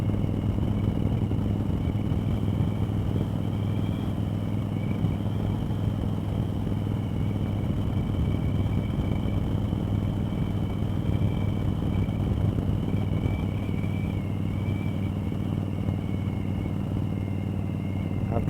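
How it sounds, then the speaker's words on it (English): Steady, loud wind roar and engine rumble while riding a motorcycle with the helmet visor raised, a continuous broadband rush with a faint whine held throughout and no talking. "We're going to try it with the visor up, see how much wind noise we get."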